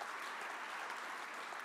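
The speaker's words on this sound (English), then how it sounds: "Please give them a loud round of applause." Audience applause at a community service awards ceremony honoring city staff, a steady, even wash of many hands clapping in an indoor hall, fairly soft and uninterrupted throughout with no talking over it.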